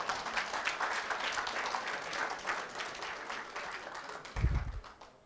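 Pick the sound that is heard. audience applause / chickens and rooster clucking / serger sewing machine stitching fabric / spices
audience applause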